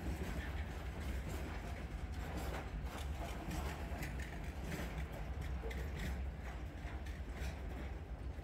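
Freight train carrying Kazakh grain, rolling along the rails with a continuous rumble, clattering wagons and metallic clicks, steady and close throughout.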